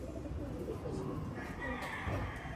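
Pigeons kept at home with a pet cat nearby give soft, low cooing, a steady muffled murmur close by with faint background noise throughout.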